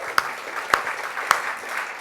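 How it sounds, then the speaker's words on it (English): A seminar audience gives a soft, scattered round of applause, a faint wash of clapping punctuated by three sharper, closer claps. "So big round of applause for Jason for putting this on."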